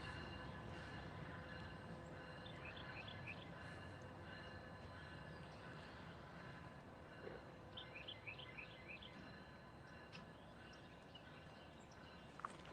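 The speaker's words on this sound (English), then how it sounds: "So I did hear locomotives" Distant train locomotives rumbling at Harriman Junction, Tennessee, a faint, steady low drone that continues throughout, with birds chirping nearby over the top.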